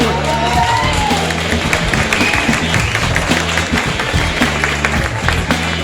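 Audience at the tenth-anniversary Entre Dhuis et Marne race in Thorigny-sur-Marne applauding its volunteers, a steady wash of clapping and cheering with scattered whoops that carries on without a break.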